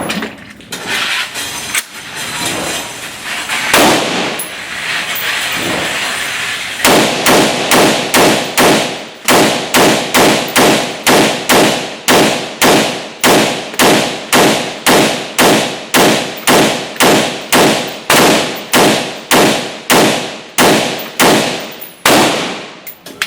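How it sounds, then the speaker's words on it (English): A Steyr AUG rifle fires rapidly on a range, roughly thirty loud, evenly spaced sharp reports in a steady rhythm after a few seconds of rustling and handling noise. "now what we're going to do is do a rapid fire of pretty much approximately about 30 rounds through it"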